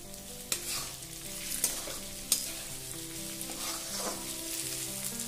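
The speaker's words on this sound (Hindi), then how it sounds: "एक बाउल कैप्सिकम, 1/2 बाउल। सब अच्छी तरह मिक्स करेंगे।" Capsicum and mixed vegetables fry in a pan for veg Hyderabadi biryani, a steady close sizzle with a few sharp spoon knocks against the pan as they are stirred; no talking.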